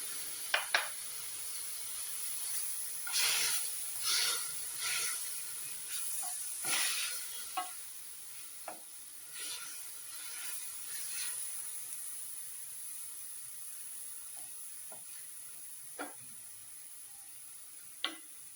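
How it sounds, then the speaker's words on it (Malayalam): Green chillies sauté in a pan before tomatoes go in, giving a soft steady sizzle with scattered clinks and scrapes of stirring close by. "ഇതൊന്ന് വഴലട്ടെ, എന്നിട്ട് തക്കാളിയൊക്കെ ഇടാം."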